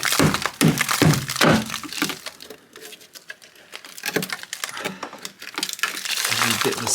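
Metal being hacked out of the rusty sill of a Porsche 928, with loud clustered cracks and scraping bursts, a lull in the middle, then more uneven cracking and grinding.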